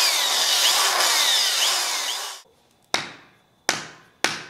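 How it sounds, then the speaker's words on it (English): A power drill with a 1/4 inch bit scores the surface of a Corvette jack puck, a steady high whirring grind for about two seconds that cuts off, followed by three sharp knocks or taps. "now we're going to drill a hole with the 1/4 inch drill bit"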